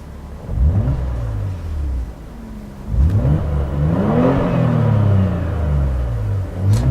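A 2012 Opel Insignia OPC engine revs hard twice to around 5,000 RPM, climbing sharply and then falling back. It sounds loud, close and throaty, with no talking.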